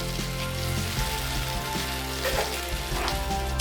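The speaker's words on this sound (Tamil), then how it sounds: "தேவையான அளவு கொஞ்சம் தண்ணி ஊற்றிக்குவோம்." Poori masala of potatoes and tomato in a pan sizzles and bubbles after a splash of water, a moderate, even crackling hiss with small pops and no talking.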